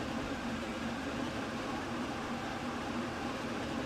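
In the Roblox game Stepford County Railway, an Airlink train runs with a steady, even mechanical drone and a low rumble that holds constant throughout, with no voices.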